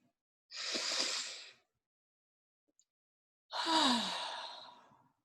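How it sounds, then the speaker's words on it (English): Two slow, deep breaths, each a soft, airy rush lasting about a second, close and isolated, separated by silence. "invite you to take a deep, a deep breath in."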